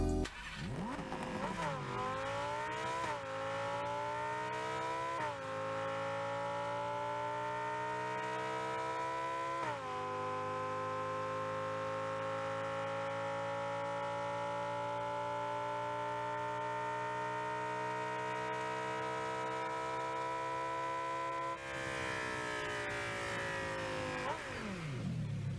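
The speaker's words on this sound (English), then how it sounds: "Here's a full demo of the engine audio." Lamborghini Huracan STO engine audio from the Rocket League video game revs through a series of gear changes, each rising whine dropping in pitch at the shift, then holds a long steady high drone before falling away, clean and without voices.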